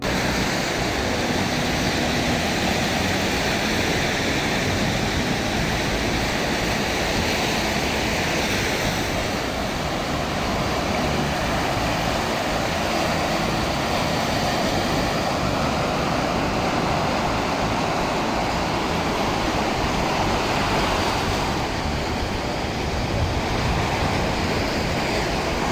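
Sea surf rolls and washes continuously along a resort beach, a dense steady roar with wind buffeting the microphone and no voices.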